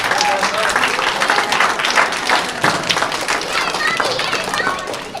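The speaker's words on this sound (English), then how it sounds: "how about we give all the volunteers a nice round of applause that helped put this together tonight" Loud applause for the volunteers at an AWANA Grand Prix evening, many hands clapping continuously amid a lively crowd with children's voices and chatter mixed in.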